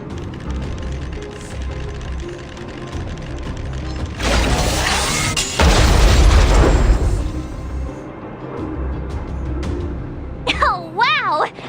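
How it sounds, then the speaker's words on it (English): A heavy in-game explosion bursts out mid-clip with a deep, loud boom and rumbling debris lasting a couple of seconds, framed by quieter game sounds and electronic effects before and after. "We wiped them all out in a single explosion!"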